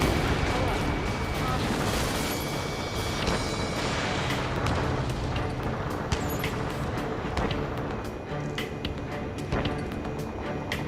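Missile launch in Ace Combat 7 amid a loud, continuous roar of jet and weapon noise, with rumbling bursts and radio voices talking over the din throughout.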